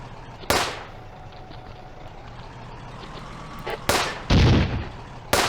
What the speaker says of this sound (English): we're going to drop some rounds right on that building. Open fire!